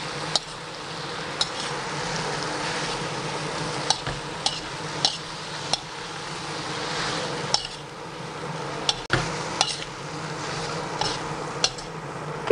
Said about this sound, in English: Keep on frying it.